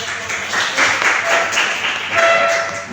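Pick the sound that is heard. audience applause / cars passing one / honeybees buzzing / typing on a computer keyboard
audience applause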